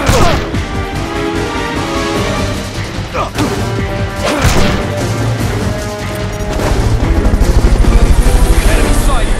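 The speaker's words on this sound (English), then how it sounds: "Subject confirmed onboard helicopter." A helicopter in Metal Gear Solid Peace Walker HD gives off a loud, dense rotor roar under heavy crashing impacts and gunfire-like bursts, with the rhythmic blade chop growing clearer toward the end.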